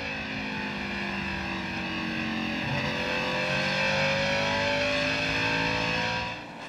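Onboard a Napa Chevrolet NASCAR race car at Lucas Oil Raceway, the engine drones loud and close, its pitch climbing steadily as it accelerates, then dropping off near the end.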